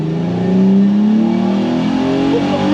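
Nissan 370Z-swapped Ford F100 race truck accelerating hard, a loud close engine note climbing steadily in pitch through a single sustained pull with no talk over it.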